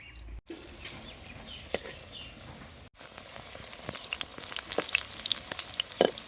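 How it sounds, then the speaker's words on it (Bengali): Jackfruit koftas sizzle and crackle in hot oil, a soft steady hiss broken by sharp pops that grow busier toward the end. "এইভাবে দুই দিকে উল্টে পাল্টে আট থেকে নয় মিনিট সময় নিয়ে একদম লাল লাল করে ভেজে নেব"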